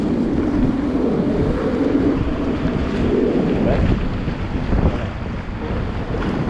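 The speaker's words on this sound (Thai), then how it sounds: "ได้ยินเสียงลมไหมครับ" Strong wind blows across a coastal headland near the Mekong during a storm, roaring continuously into the microphone with a heavy low rumble and gusty swells, loud and unbroken, with no voices.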